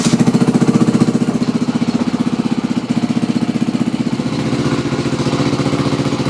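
A Honda 250X single-cylinder motorcycle engine runs at a steady idle after being kick-started, a loud, close, rapid and even thumping putter throughout with no voices.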